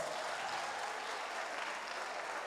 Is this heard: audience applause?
yes